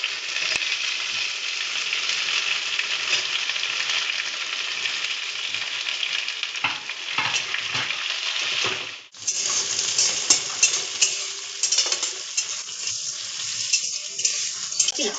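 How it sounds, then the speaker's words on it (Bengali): Chopped onion frying in hot oil in a pan for an egg and masoor dal curry gives a loud, steady sizzle with occasional scrapes of a spatula stirring, no one talking. "এবার এই তেলের মধ্যে দিয়ে দেব কুচনো পেঁয়াজ।"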